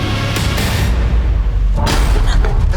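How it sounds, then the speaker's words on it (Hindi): Gunfire in a tense domestic confrontation, a loud booming blast followed by rumbling echo and further thumps, heavy low-end noise filling the whole stretch. "मैं सच में चला दूंगी मैं। अरे चला ना गोली।"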